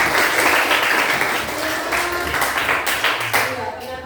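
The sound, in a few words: students applauding in a classroom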